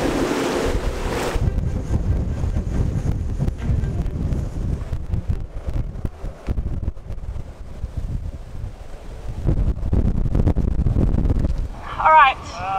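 Gale-force wind buffets a sailboat at anchor, a steady roaring rush with water sloshing and waves against the hull throughout, and brief voices near the end.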